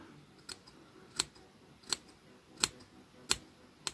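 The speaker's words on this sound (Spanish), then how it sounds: "Es bueno tener unas tijeras de estas que corten muy bien" Sharp scissors snip through fabric being trimmed closely for gluing with spray contact adhesive, giving six crisp, evenly spaced cuts in a quiet room with no talking.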